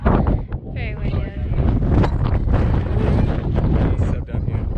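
Strong wind roars and buffets a nearby microphone throughout at Arches National Park, steady and loud, with some voice-like sounds faintly under the gusts.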